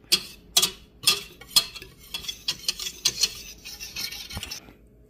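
Salt and lemon zest stirred together in a dish for a lemon meringue pie filling, with a run of sharp clinks and scrapes of a utensil, close and alone.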